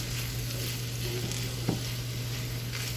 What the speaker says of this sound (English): So now we're just going to fry these up until they get a really nice little brown glaze to them